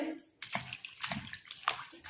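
Water sloshes and splashes as cut bitter gourd pieces are rinsed by hand in a bowl, with short bursts of swishing and dripping, close and fairly quiet.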